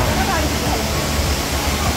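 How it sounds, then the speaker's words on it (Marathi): Steady, loud broadband roar of a waterfall near Radhanagari Dam, heard close up as continuous rushing water with no distinct breaks; a voice talks faintly over it. "अशा प्रकारे धबधबा तुम्हाला इथं पाहायला मिळतोय"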